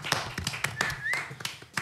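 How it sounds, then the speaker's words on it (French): A short burst of scattered hand claps, a few sharp taps at irregular intervals, fairly close and moderately loud, with no talking. "Bravo. Ça s'applaudit les gars."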